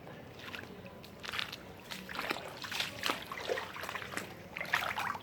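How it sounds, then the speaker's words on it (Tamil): Floodwater from the overflowing Adyar River running through a flooded residential area and garden plots, a soft trickling, sloshing flow with intermittent splashy surges, faint and close by, no talk. "இந்த பக்கத்துலேருந்து தண்ணி வருது."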